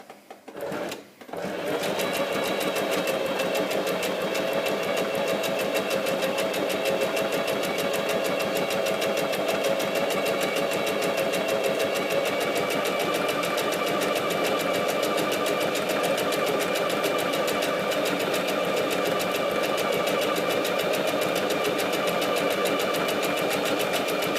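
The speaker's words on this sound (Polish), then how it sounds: "Dlatego ja tu sobie przytrzymuję, nie ciągnę i powoli zaczynam szyć." Sewing machine stitching knit fabric with an elastic stitch, a rapid steady mechanical whir and clatter that starts after a brief click and runs loud and unbroken to the end.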